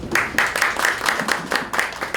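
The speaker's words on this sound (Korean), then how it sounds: "큰 박수로 맞아주시면 감사하겠습니다." Steady rhythmic clapping at a political visit to a university student startup event in Korea, a handful of sharp even claps in a row, like a small group applauding in time.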